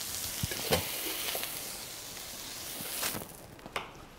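Seasoned food fries in a very hot pan, a dense, steady sizzle close to the microphone, broken by a few knocks and scrapes of stirring.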